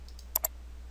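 Two quick mouse clicks on a computer, close and crisp, a short double tick against quiet background hum.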